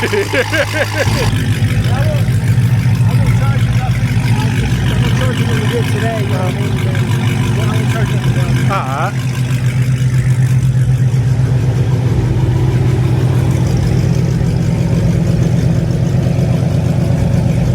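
A 1,000-horsepower Mustang engine idles loud and close with a deep, heavy rumble, and a brief rev rises near the middle. Voices talk over it throughout.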